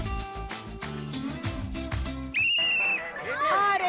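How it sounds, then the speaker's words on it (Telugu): A team on a Telugu TV game show blows a whistle, a loud shrill tone that enters after background music, holds steadily, then wavers in warbling bursts. "ఇప్పుడు నెక్స్ట్ విజిల్ ఏ టీం వాళ్ళు వేస్తారు చూడండి కాస్త"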